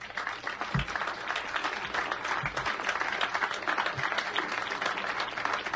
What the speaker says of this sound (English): I'd like to get some applause for this great band behind me